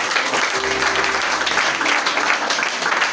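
A congregation applauding in a church during a Baptist anniversary celebration, steady dense clapping that fills the whole stretch with a constant wash of noise, a faint tone humming briefly underneath.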